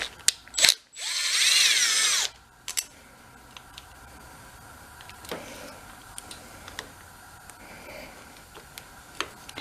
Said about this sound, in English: Let's get that screw out of there.